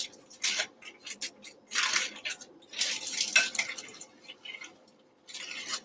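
Crushed pork rinds mixed in a bowl with xanthan gum, psyllium husk and baking soda for keto tortillas, giving close, intermittent scraping and clinking bursts of utensil against bowl in an irregular rhythm.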